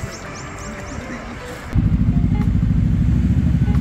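On a Japanese street near a Suzuki and Kawasaki motorcycle shop, a steady engine rumble rises abruptly and stays loud and close, with a voice heard faintly earlier on.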